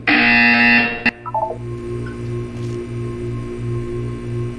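A harsh, loud buzzer blares in the Portal 2 video game, cutting off sharply after about a second, followed by a few descending tones and a steady pulsing hum.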